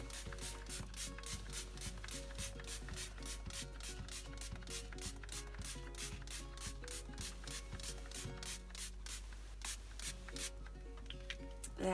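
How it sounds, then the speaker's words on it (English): A spray bottle mists bleach solution over a T-shirt by a sink, a close run of quick regular trigger pumps and hissing spritzes lasting several seconds, with no talking. "but just gently spray all of the area with your bleach solution"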